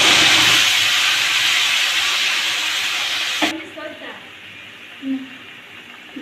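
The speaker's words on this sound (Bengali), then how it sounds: "মশলাটা পেস্ট করে রেখেছি মশলাটা ঢেলে দেবো" Spice paste hits a hot pan for golden moong dal with a fish head, raising a loud, steady hiss that cuts off abruptly halfway through, leaving a quiet room with a few soft clinks.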